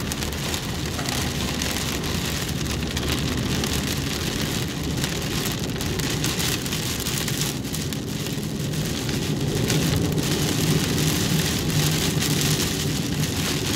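Heavy rain falls steadily during a thunderstorm on the road, pattering on surfaces in a dense continuous wash with a low rumbling undertone, constant and fairly loud throughout.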